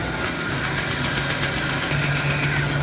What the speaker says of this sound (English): I cut out two rough circles on the bandsaw.